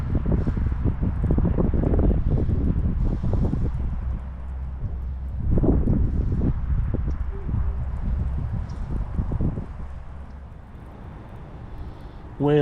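Wind blows across open water from a bass boat on a late-winter day near Hilton Head, South Carolina, a steady low rumble and buffeting against the microphone that eases off partway through.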